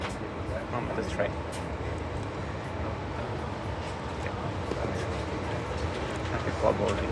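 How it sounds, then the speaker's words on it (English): Steady low rumble and hum inside a train bound for Brno, with faint murmuring voices of boarding passengers and occasional clatters in the background. "So I'm on the train."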